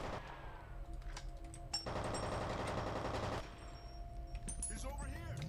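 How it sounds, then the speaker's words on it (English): Gunfire in the video game F.E.A.R., with rapid automatic bursts forming a dense central volley amid scattered single shots and game effects, over a steady background. "I'm taking fire."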